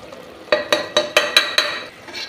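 A spoon stirs masala into chicken gravy in a pan: about six distinct scraping, clinking strokes in a steady rhythm over a faint sizzle, close and clear, with no talk.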